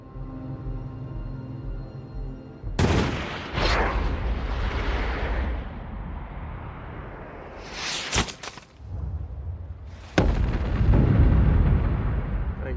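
Intense gunfire and explosive blasts from a battle scene in the American Sniper film, heavy bursts and booms with whooshing debris, a big blast near the end, loud and continuous with no talk.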